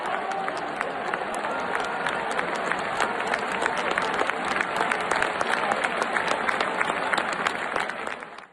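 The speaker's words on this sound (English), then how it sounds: "applause as bullfighter Morante de la Puebla does something on Sunday" A bullfighting arena crowd applauds Morante de la Puebla, a dense, steady roar of clapping from many hands that holds evenly for several seconds before tailing off at the end.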